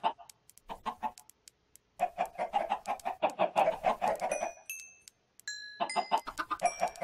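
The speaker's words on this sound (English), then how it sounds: "I can go ahead and feed my chickens." Minecraft chickens cluck in quick bursts of short, choppy calls, fairly close and steady, with a few bright chime-like game tones scattered among them.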